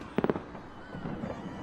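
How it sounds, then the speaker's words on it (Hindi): Fireworks burst in a movie scene, a quick cluster of three or four sharp crackling pops near the start, followed by softer distant rumbling and faint background noise. "ये पूरी आतिशबाजी और आधे शहर में खलबली मची है"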